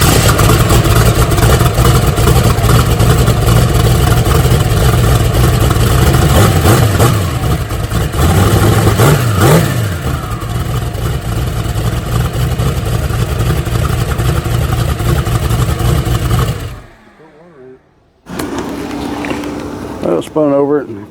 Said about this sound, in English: So we'll fire it back up here again in a second.